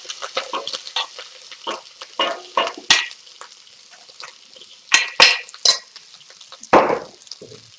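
Rice tossed into smoking-hot oil in a wok, stir-fried with a wooden paddle: bursts of loud sizzling and scraping strokes in irregular pulses, close and sharp.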